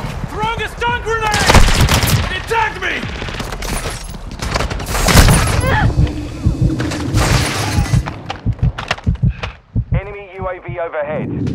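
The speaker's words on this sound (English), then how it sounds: "Throwing a stun grenade!" Gunfire and a stun grenade in multiplayer Call of Duty Modern Warfare 2 with an M4 (HK416) rifle, rapid loud bursts of shots and sharp bangs, with game voice chatter mixed in.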